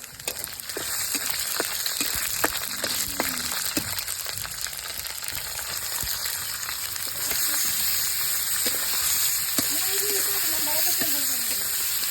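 Meat fries with onion, green chili and garlic in a pan, giving a loud, steady sizzle and hiss with scattered stirring knocks, and a faint voice briefly in the background.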